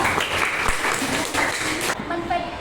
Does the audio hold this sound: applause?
yes